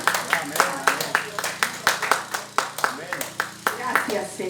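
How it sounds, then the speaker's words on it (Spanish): A church congregation claps in a steady rhythmic beat, with close individual claps repeating over background voices. "Démosle un aplauso."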